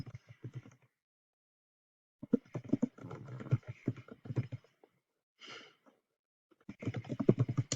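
Bursts of soft, rapid keystrokes on a computer keyboard, close and quiet, come in short clusters separated by pauses while a definition is typed word for word.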